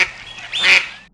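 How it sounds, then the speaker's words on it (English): Duck giving a single short, nasal quack, close and clear, just over a second long and alone. "It's a duck. Quack, quack."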